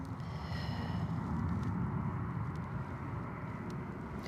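A Ryanair airliner's loud engines rumble from a distance at Edinburgh Airport, a steady low roar with faint higher whine that holds evenly throughout.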